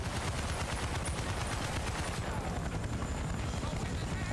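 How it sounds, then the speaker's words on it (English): A helicopter in the Battlefield Vietnam video game drones steadily and close, its rapid rotor chop pulsing throughout, with bursts of gunfire mixed in. "The helicopters seriously are so good in Vietnam."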